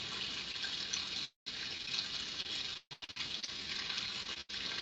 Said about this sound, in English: Listen to that water coming off the eaves trough.